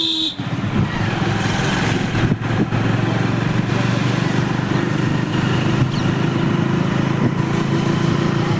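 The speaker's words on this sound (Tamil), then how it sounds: "பைக்கில் தான் போகிறோம்." A motorcycle engine drones steadily and loudly while riding through traffic toward Akbar's tomb near the Taj Mahal, a constant close-up hum with wind rush and no pauses.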